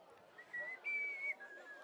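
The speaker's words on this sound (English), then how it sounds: "Cue that Omar whistle" A short melodic human whistle, two sustained tones, sounds faintly at a high school football game, quiet and alone for under two seconds.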